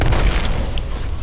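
A thrown grenade explodes in a video game, producing a loud, dense boom that fills the whole moment and rumbles out briefly.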